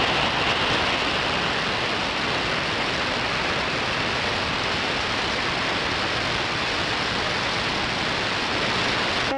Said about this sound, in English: Hey everybody, y'all know it's raining outside?